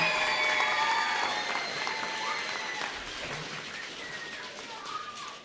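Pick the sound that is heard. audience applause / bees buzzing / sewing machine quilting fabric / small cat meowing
audience applause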